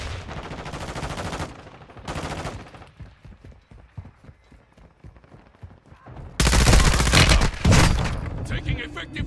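Automatic gunfire in Call of Duty Warzone, in a Resurgence match at Al Bagra Fortress: loud sustained bursts at the start, a quieter stretch of scattered shots and mechanical clatter, then heavy continuous firing toward the end.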